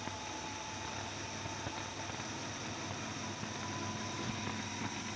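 A 1965 Malibu SS with a small block 350 idles steadily, a continuous even engine drone with no voices.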